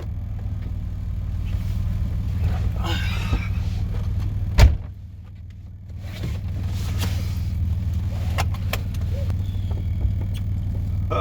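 A Nissan Skyline R33 GTS coupe gives a steady low engine drone throughout, broken by a single sharp door-like thud near the middle.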